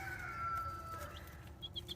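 Thirteen-day-old chicks give faint high peeping calls, a few brief chirps near the end over a quiet, low background hum.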